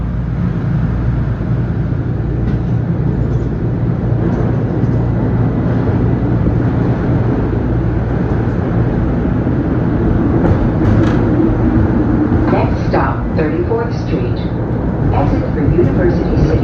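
A Market-Frankford Line subway train bound for 69th Street runs along with a steady, loud rumble and rattling wheel noise that continues throughout, heard from on board with occasional squeals and clanks.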